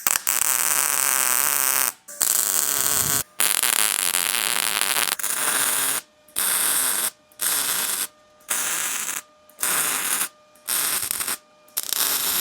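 Tack welding a metal tube onto the window frame of a custom 1968 VW, heard as several loud, crackling bursts of arc buzz separated by short silences, close up with no talk.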